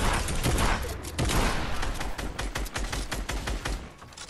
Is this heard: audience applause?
no